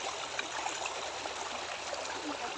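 Water flows steadily through a small stream channel in a rural village, a continuous rushing trickle heard up close with no talking.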